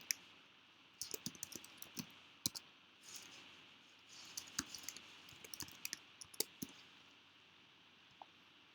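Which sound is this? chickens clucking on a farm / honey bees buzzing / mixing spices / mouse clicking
mouse clicking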